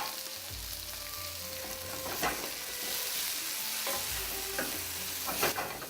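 Courgette and spring onion stir-frying with salt in a pan, a steady sizzle running throughout with occasional scraping stirs and clinks, close and moderately loud with no voices.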